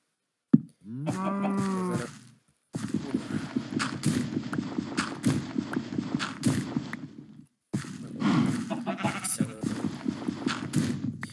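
Sheep bleat in a block-building survival video game over a steady rustle of background noise, with hoof-like clip-clop taps and brief gaps of silence.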